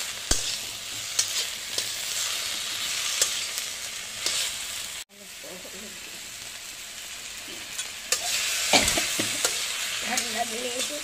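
Drumstick vegetable pieces fry in a pan with a little salt while being stirred, a steady close sizzle broken by irregular spatula scrapes and knocks, with a brief pause midway.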